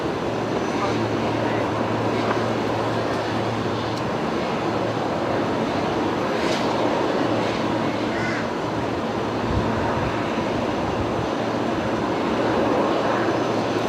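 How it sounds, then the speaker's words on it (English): A Boeing Business Jet rolls down the runway at Brisbane Airport, its engines producing a continuous broadband roar with a steady low hum throughout, fairly close and loud, with faint bird calls in the background. "the BBJ just being given the roll-through clearance to the very end"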